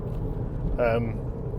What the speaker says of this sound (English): Hopefully there's not too much road noise. These tyres are quite noisy.